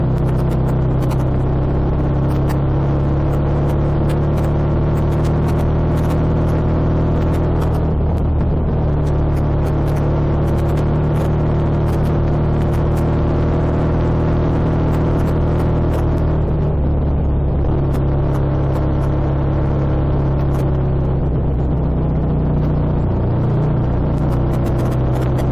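A motorcycle engine drones steadily and loudly while riding through the Forest of Dean, with a continuous low rumble and wind over the microphone, easing and picking up slightly as the ride goes on.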